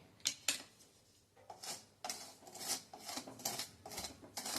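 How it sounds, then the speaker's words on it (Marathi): Salt being dry-roasted in a hot kadhai: a spoon scrapes and clinks against the metal in a series of short, fairly close strokes, with a brief lull early on and no voices. "हे मीठ पण आपण किंचित त्यातलं मॉइश्चर काढून घेण्या इतपतच भाजणार आहे."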